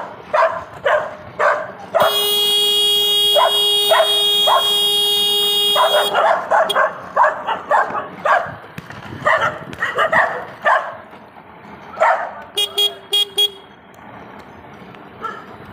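At night, dogs bark repeatedly in short sharp bursts as they chase a car being towed behind a four-wheeler, with a long steady horn blast early on and a few short honks later.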